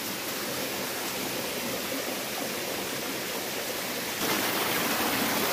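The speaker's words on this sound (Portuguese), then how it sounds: "Que cachoeira linda." Waterfall at Goiabol in Bom Jardim, a steady loud rush of falling water that swells a little louder near the end, with no voices.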